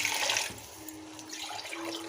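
Water is poured into a pot of fried rice for mutton kima biryani, a continuous soft splashing and gurgling that stays steady and faint throughout.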